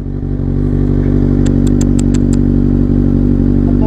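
A Kawasaki Ninja ZX-6R superbike engine roars loudly and steadily up close, with a few sharp crackles partway through.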